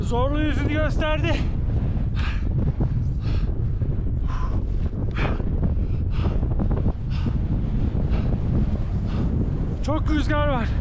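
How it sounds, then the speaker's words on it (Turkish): Strong wind roars and buffets the microphone continuously on a mountain climb up Little Ararat, with a person talking loudly over the gusts at the start and near the end. "Çok rüzgar var."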